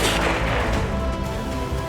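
A loud, close rifle shot fired at a Kentucky buck during a daylight deer hunt, a single heavy boom that rolls into a sustained low rumble and echo with no voices.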